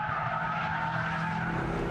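A Mitsubishi Evo 8 with active yaw control and an active centre differential corners tail-happy, its tires skidding in a sustained, loud squeal over engine noise, with no talking.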